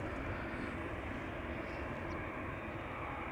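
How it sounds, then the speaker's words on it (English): A KLM Boeing 787-10 airliner approaching Amsterdam Schiphol Airport, a steady broad jet roar that stays loud and constant throughout. "This is KLM Flight 635 coming this way, 787-10 to Las Vegas."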